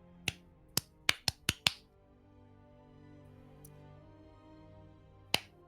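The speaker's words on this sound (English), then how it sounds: "No, but the clappings are not muted." Sharp hand claps picked up by a desk microphone with noise suppression turned off during a StarCraft 2 tournament broadcast: six crisp claps in quick, uneven succession, then a single clap after a pause, close and clear over a quiet background.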